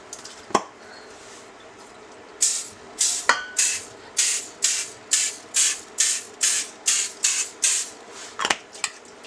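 Repeated short bursts of an oil spray can coating muffin liners, about a dozen quick hisses in a steady rhythm, framed by a few sharp knocks before and after.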